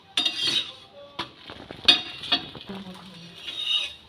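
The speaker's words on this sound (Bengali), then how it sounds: "এরকম হালকা করে খুন্তি এরকম ঢুকিয়ে দিলেই এই যে রুটি আলাদা হয়ে যাচ্ছে" A metal spatula slides and scrapes beneath paper-thin rumali roti on a hot pan to separate the layers, giving soft scraping and light clinks in short bursts, fairly close, with no talk.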